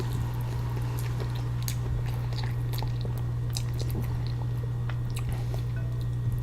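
Close, steady chewing and soft squishy bites of wonton soup, with small wet clicks scattered over a constant low hum and no talking.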